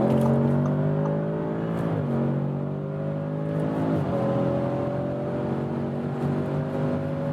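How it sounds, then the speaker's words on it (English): Audi sports car engine accelerating hard from about 100 to 200 km/h on an unrestricted highway, a loud steady engine note climbing in pitch with two brief dips at gear shifts, no talk. "I shifted down twice, but then the car went back 2 more gears"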